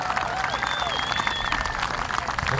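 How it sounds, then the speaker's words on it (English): Applause from a crowd at a grand parade and muster, a dense continuous wash of clapping with whistles rising above it, with faint voices mixed in throughout. "Big applause."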